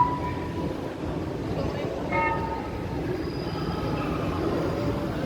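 An MRT train at Blok M BCA station in Jakarta rumbles steadily with a broad roar and faint wheel squeals, sounding close and continuous at a busy station.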